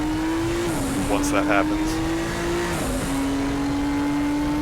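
A four-wheel-drive Nissan Skyline race car drones steadily in the RaceRoom racing game, its engine note dipping briefly at gear changes with light tire scrub, while someone talks over it.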